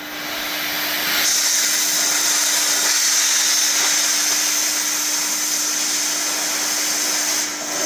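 A cutting torch slices through steel on a giant homemade log splitter, giving a steady, loud hissing roar with a bright high-pitched whine that holds almost unbroken for about eight seconds, with no talking.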